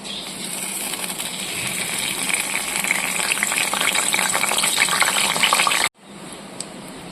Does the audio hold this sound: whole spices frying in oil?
yes